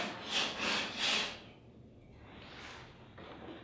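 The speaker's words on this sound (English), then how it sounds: "get you a piece of sandpaper, doesn't matter the grit. You can go inside, you're going to rough up the actual inside of the kayak" Sandpaper roughs up the inside of a plastic kayak hull, three quick back-and-forth rasping strokes, close, followed by softer scraping and handling noises.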